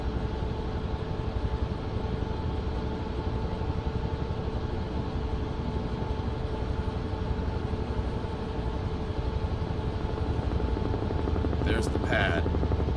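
A helicopter in Microsoft Flight Simulator gives off a steady, loud rotor and turbine drone throughout, with a brief higher-pitched blip near the end.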